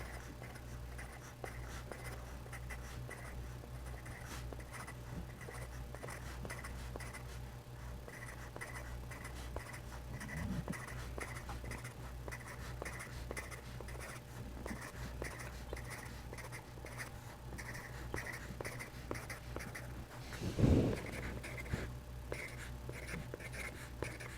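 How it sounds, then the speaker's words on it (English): A hard HB charcoal pencil scratches softly on paper in a long, faint stretch of steady strokes, with a couple of louder rubs, over a constant low hum. "now I'm going to take my hard or HB charcoal pencil, and I'm going to do the same thing on the right."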